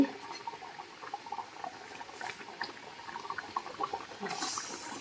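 Fish curry simmering in a pan at home, a soft irregular bubbling and popping with occasional splashes, moderately close and fairly quiet, rising slightly toward the end.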